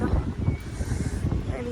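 Strong monsoon wind gusts in Mahabaleshwar, Maharashtra, a brief, close, blustery rumble buffeting the microphone.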